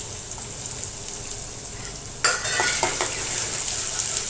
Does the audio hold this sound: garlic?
yes